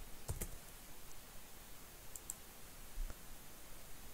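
Keys clicking on a computer keyboard as the word Linux is typed, a short cluster of faint, close taps over a steady low hiss, with no voices.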